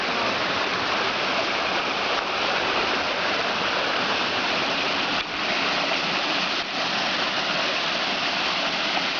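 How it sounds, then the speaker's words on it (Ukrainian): A steady, dense roar of the Maniava waterfall in Ukraine, heard from about 20 metres up, fills the whole stretch, close and unbroken, with no voices. "яка падає вниз і утворюється утворюється оцей водоспад Манявський"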